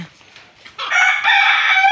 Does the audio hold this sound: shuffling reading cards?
no